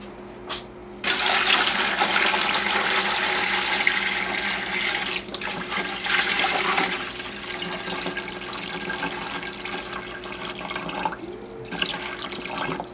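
Tap water gushes into a pressure canner pot, a loud steady pour starting after a second and continuing for the rest of the stretch, with small clinks and gurgles as the level rises.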